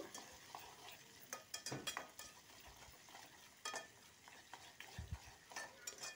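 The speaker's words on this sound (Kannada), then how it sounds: "ಸೊ ಇವಾಗ ಮತ್ತೆ ಈರುಳ್ಳಿ ಹಾಕ್ತಾ ಇದ್ದೀನಿ. ಆ್ಯಂಡ್ ಅದ್ರ ಜೊತೆಗೆ ಸ್ವಲ್ಪ ಕರಿಬೇವು ಕೂಡ ಆ್ಯಡ್ ಮಾಡಿದ್ದೀನಿ." Onion and curry leaves fry in a pan with a steady sizzle, broken by occasional scraping stirs and a few louder utensil clatters against the pan.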